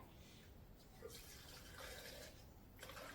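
Water poured into a vessel for washing leaves, a soft splashing trickle that comes in short bursts, close and quiet.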